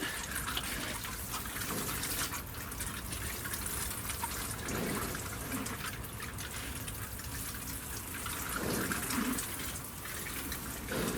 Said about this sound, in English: So I'm just going to give them one more quick watering.